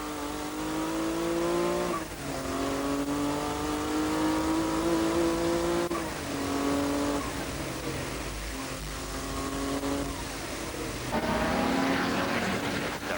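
An Alfa race car's engine roars from inside the cockpit during a 1992 Supercup race at Kyalami, revving hard and rising in pitch through repeated gear changes, loud and continuous with brief dips between shifts.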